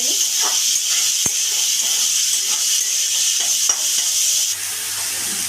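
Prawns frying in a pan hiss and sizzle with a steady, loud bright crackle, broken by a few soft stirring clicks, with faint talk beneath.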